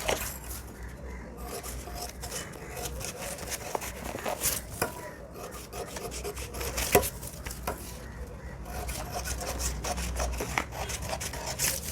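Scissors cutting blouse fabric along marked lines, heard as close, intermittent snipping and rubbing strokes over a low background hum.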